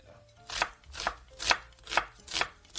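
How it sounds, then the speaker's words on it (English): A knife slices an onion very thinly on a cutting board, six evenly spaced swelling cuts about half a second apart, each ending in a soft tap, close and alone with no talk. "Slice the other one very, very thinly."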